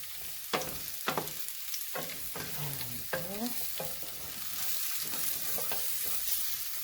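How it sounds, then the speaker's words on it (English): Sweet potato hash frying in a pan while being stirred, with a series of sharp spatula scrapes and knocks against the pan over a steady sizzle, close and moderately loud, no talking. "So now we're going to keep mixing this around."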